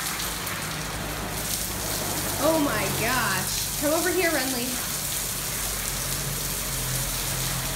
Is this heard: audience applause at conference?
no